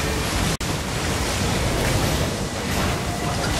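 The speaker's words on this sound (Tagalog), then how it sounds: "Dagat na." Steady rushing ocean surf with wind noise in the video game Albion Online, loud and continuous, with a brief dropout near the start.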